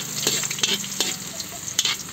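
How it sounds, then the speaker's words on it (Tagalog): Garlic and ginger sautéing in a very hot pan, a close crackling sizzle with a few sharp stirring clinks, no talk. "maggisa na tayo ng bawang"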